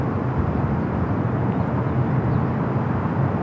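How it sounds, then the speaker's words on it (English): A 26-year-old Delta Boeing 767-300ER jet at Los Angeles LAX airport, a loud continuous low engine roar holding steady from start to finish, with no voices. "A Delta flight heading to JFK, flight 991. It was a 26-year-old 767 at 300 ER."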